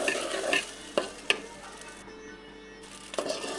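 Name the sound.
stir-frying rice in a pan for hilsa pulao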